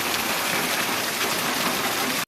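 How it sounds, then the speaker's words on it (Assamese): Heavy rain pours outside a closed window, a dense, loud, even hiss of drops that fills the whole short stretch and cuts off abruptly at the end. "ইমান বৰষুণ দিছে"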